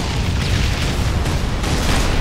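A rocket launcher explosion in Halo 3, heard as a loud, dense rumbling boom that fills the whole short stretch with continuous low, noisy roar.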